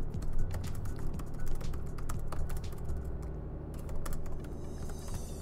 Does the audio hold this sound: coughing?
no